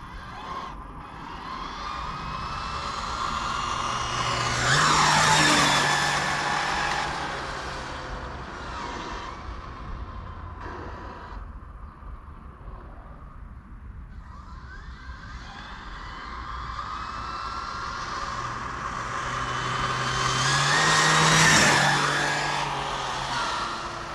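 A Mini Challenge RC car on an SBR 2.0 chassis twice whines past at speed, its high-pitched motor rising and falling as it approaches and recedes over a quieter stretch between passes.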